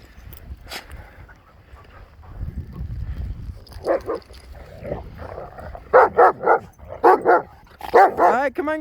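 Several dogs on a walk through deep powder snow in a High Sierra blizzard: a quiet windy stretch, then a run of close, sharp barks and yips with some whimpering in the second half.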